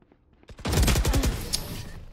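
A burst of rapid automatic gunfire in the video game Valorant, loud and close, rattling for over a second before tapering off.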